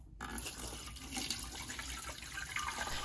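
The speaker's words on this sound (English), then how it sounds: "And I'm putting in a cup of water" A cup of water is poured onto used coffee grounds, a faint continuous trickling splash that runs steadily for about three seconds without voices.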